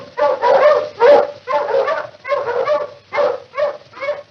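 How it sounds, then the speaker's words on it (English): Several dogs bark in a steady run of loud, close bursts, about eight barks over a few seconds with brief gaps between them. "the dogs were barking"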